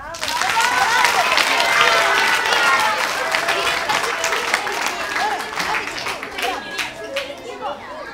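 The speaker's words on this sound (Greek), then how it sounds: "Παλαμάκια!" A room of children claps together, loud applause starting at once and tapering gradually over several seconds, with chatter and young voices mixed in.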